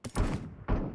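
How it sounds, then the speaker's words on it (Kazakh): Gunfire in the mobile game PUBG Mobile: two short, punchy bursts close together, loud and near, with a brief gap between them. "Жерде біреу атысып тұр."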